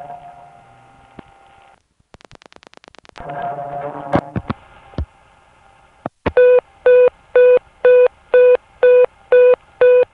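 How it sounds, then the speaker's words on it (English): A crossbar telephone exchange, reached by dialing 660 from Cedarhurst 9 near Eastern Queens in 1970, gives a series of eight steady, evenly spaced electronic beeps after earlier clicks, a short burst of rapid pulses and a hum-like line tone. "when you call 660, the beeping tone is more typical for Eastern Queens"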